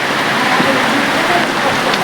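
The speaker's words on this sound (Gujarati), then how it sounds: "એવો જ વરસાદ આવી જુઓ" Heavy evening rain comes down in a steady, dense hiss that fills the whole short stretch, with no clear breaks.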